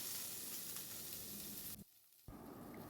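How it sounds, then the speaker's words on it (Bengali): Okra fries in hot mustard oil with a loud, continuous sizzle, close and hissing, broken by a short sudden silence before the crackling resumes. "ফোড়নটা ভাজা হলে কেটে রাখা ঢ্যাঁড়সগুলো দিয়ে দিচ্ছি"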